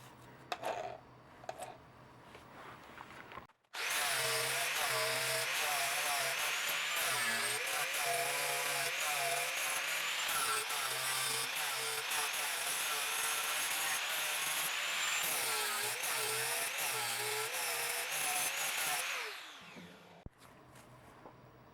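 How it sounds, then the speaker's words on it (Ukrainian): An angle grinder with a P60 flap disc smoothing a flux-core wire weld, a loud continuous high whine with a rough abrasive edge lasting about sixteen seconds, then winding down, with faint handling noise before it starts. "Буду зачищати ось таким полісковим кругом фракція P60."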